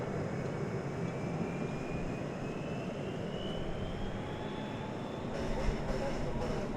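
American Airlines flight 420 taking off at Dallas Fort Worth airport, a broad rumbling jet roar with a slowly rising whine, steady and fairly distant, building slightly toward the end.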